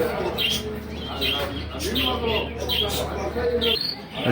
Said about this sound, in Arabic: هذا كناري كله فول تغريد